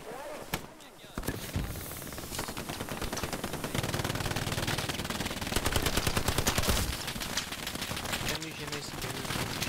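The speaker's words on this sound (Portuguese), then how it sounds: "É, tem uma MG aqui." Machine gun fire in a multiplayer war game on the Hospice map, long rapid bursts of close, loud shots with scattered other gunfire, and a voice talking over it.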